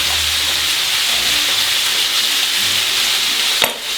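Meat searing in a hot pan for Hungarian goulash, a steady close sizzle and hiss with light stirring scrapes, a brief sharper clack near the end.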